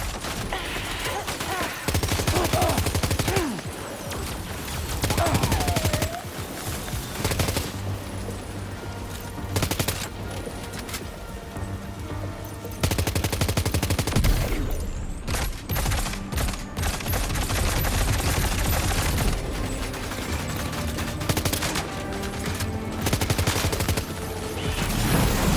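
Sustained gunfire fills a Death Stranding 2 gameplay battle, with rapid bursts and scattered shots repeating loudly throughout, broken by brief lulls amid game sounds.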